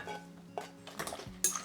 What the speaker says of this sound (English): I'll give everything a good mix